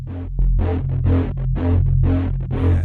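Synth bass with chorus added, a rhythmic run of pulsing, wobbling notes over a steady deep low end, loud and upfront with no voices.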